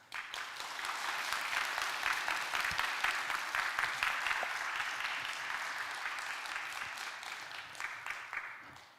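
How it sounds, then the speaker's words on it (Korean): Church congregation applauding to welcome a pastor at a special Friday testimony service, sustained many-handed clapping lasting several seconds, steady then tapering off at the end, heard somewhat at a distance. "큰 박수 부탁드립니다"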